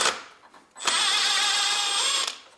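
A power tool with a 17mm socket backs out the left engine mount bolts on a 2006–2022 Honda Civic, whirring steadily for about a second and a half after a quiet start, close and alone.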